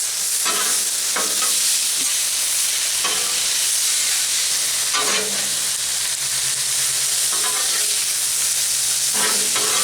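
Beef stir fry sizzling loudly on a Blackstone griddle, a constant hiss punctuated by bursts of scraping and stirring as the food is moved and flipped, close up with no talking.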